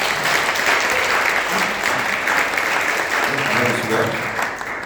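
Congregation applauding during a Sunday mission worship service at a church in Bali, with steady, dense clapping that fills the room throughout, some voices mixed in beneath.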